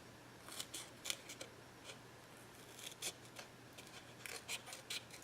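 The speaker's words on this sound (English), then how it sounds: "Cut up a few more pieces just to show you." Scissors snip paper into small pieces for stamp making, a quick irregular series of crisp cuts over a steady low hum, close and soft, no talking.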